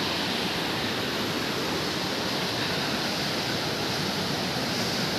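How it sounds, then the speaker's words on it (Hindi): Machakandana waterfall pouring in a village setting, a steady full broadband roar of falling water, close and loud, constant for the whole stretch with no voices. "ये देखो वाटरफॉल"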